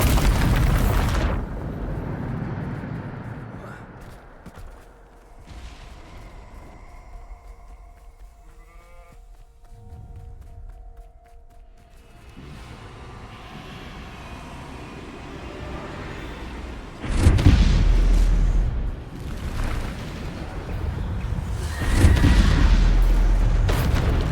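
Bombarda explosion spells going off in the video game Hogwarts Legacy: loud, heavy booming blasts burst out late in the clip after a quieter stretch of low game ambience.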